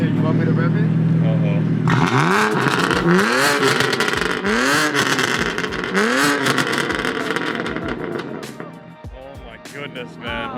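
BMW F80 M3 engine revving hard in repeated rising blips, loud and close, with a dense roar filling the background and people talking over it.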